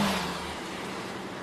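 A 2025 Kia K4 EX on the move, heard as a steady muffled engine and road hum, fading slightly over a brief stretch with no talk.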